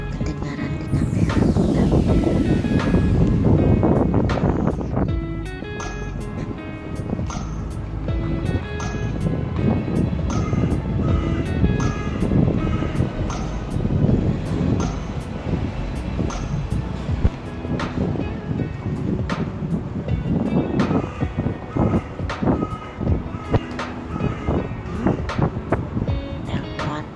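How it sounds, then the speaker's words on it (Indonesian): Strong gusting wind buffets the camera microphone outdoors in Edinburgh, Scotland, a loud continuous low rumble throughout, with a person talking over it. "Ini anginnya kencang sekali ya."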